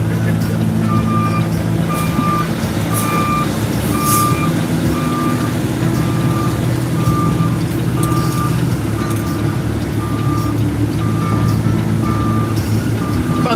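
A Peterbilt truck reverses while parallel parking, its backup alarm beeping in a steady, evenly spaced rhythm over a loud, continuous diesel engine rumble close by.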